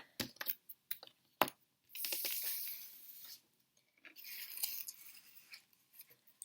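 Tarot cards being handled and put away: soft scattered clicks and taps, then two longer papery shuffling swishes, quiet and close, with no talking.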